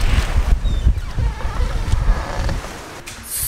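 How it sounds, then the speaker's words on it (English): Strong wind buffets the microphone outdoors beside a parked van, a loud gusty roar with low rumbling surges and brief dips, while faint speech sits underneath. "It's actually quite windy today, which is really nice because it makes it be not so hot."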